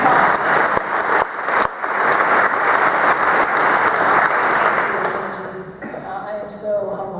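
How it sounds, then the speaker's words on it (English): Loud, sustained applause from an audience at a hall of fame induction ceremony for an inducted athlete, dense clapping filling the hall and tapering off toward the end. "Big round of applause."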